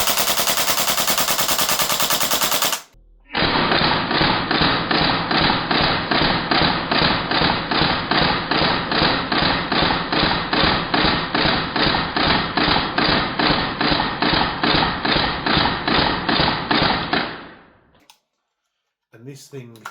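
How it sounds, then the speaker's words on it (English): WellPro AK12 gas blowback airsoft rifle emptying a magazine on full auto, a rapid, loud, close stream of sharp shots lasting about fourteen seconds after a brief opening burst, then a few faint clicks. "We're just going to rack another mag in and we're just going to dump it on full auto."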